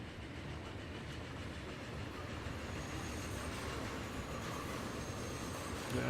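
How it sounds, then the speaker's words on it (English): Express train in a video game rushing through a station without stopping, a steady rolling rail roar with faint rhythmic wheel clatter, quiet and continuous, swelling slightly at the end, with no talk. "Yeah, train arriving."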